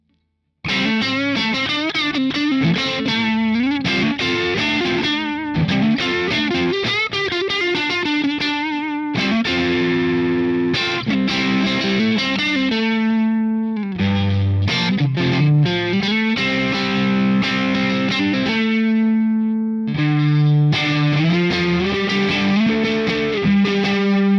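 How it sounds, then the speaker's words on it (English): Electric guitar played through a JOYO BanTamP XL Jackman II hybrid amp with a JOYO Tornado Overdrive pedal in front, clean chords and melodic runs ringing with effects, loud and close, no talk, for about 24 seconds. "What I do have is a JOYO Tornado Overdrive in the front of this."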